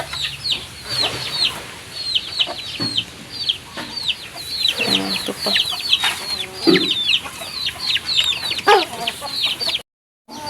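A flock of chickens clucks and chatters steadily, near and fairly loud, with a few short spoken words mixed in.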